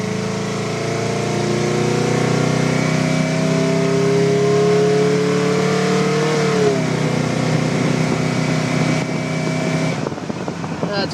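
A Subaru camper van accelerates in drive, the engine pitch climbing steadily and then dropping as the automatic transmission shifts up, with a continuous close-up drone and road noise throughout.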